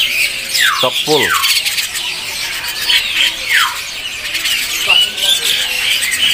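Young white starlings at a kiosk in a bird market give loud, harsh squeals and squawks in quick repeated calls, close by, while someone speaks briefly over them.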